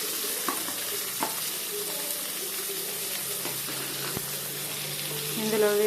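Sliced onions fry in hot oil in a pan for a village-style brinjal dish, giving a steady close sizzle broken by a few clinks and stirring scrapes, swelling briefly near the end.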